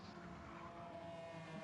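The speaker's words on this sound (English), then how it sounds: "I can actually hear the car noise." Engine noise of race cars in the Gran Turismo video game during a Gr3 race at St Croix, a faint, steady droning hum with no talking.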